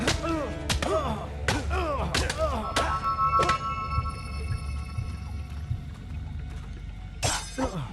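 Sword strikes in a Fable Anniversary training fight, a series of sharp metallic clangs and thuds spaced irregularly, each ringing briefly, with one last hit near the end.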